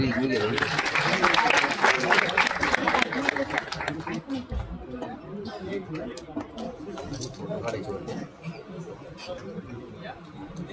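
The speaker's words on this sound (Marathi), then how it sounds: "टाळ्या टाळ्या" Audience applause at a divisional award ceremony, loud crowd clapping for a few seconds that gives way to murmuring chatter and talking voices.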